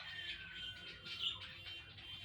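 Faint chirps and soft calls from pigeon chicks and their parents perched in a home garden, scattered light tweets over quiet background. No one speaks.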